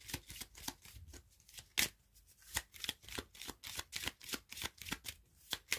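Lenormand and Charms oracle cards are shuffled by hand in a quick, even rhythm of crisp riffling slaps, close and clear with no talking.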